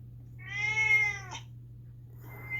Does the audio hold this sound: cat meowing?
yes